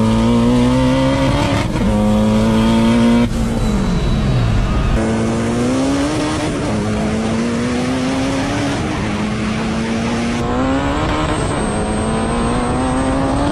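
A 1,000-horsepower Honda Odyssey minivan races against supercars. The engine roars loud and close, climbing in pitch through several gear shifts, with each upshift dropping the note before it rises again.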